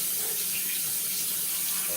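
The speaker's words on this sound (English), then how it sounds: "wash out the pot real good and boil the water" Tap water runs into a pot in a kitchen sink, making a steady, loud, close hiss of pouring water throughout.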